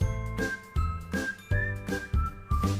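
Pressure cooker on the stove while cooking egg biryani, its whistle-weight releasing steam in repeated rhythmic bursts about every half second to second, each a loud hiss with a ringing whistle tone, no voices.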